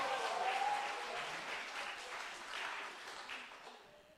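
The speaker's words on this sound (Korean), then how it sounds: "20명 박수치고." Congregation at a Sunday church service clapping steadily, a broad wash of applause from many hands filling the room, moderately loud and fading slightly toward the end.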